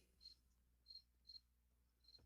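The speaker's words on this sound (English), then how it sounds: "I hear your crickets." Faint cricket chirps sound in short, separate bursts, four in all, against a quiet still background.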